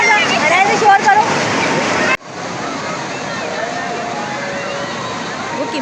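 Loud rushing seawater sweeps in and splashes at a Karachi seaside during heavy rain, then settles into a steady surf wash; voices chatter and shout over the first part.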